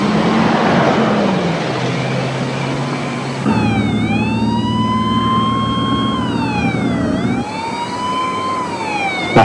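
A loud ambulance siren wails steadily at close range, its pitch sweeping up and down over a continuous rumble of road traffic.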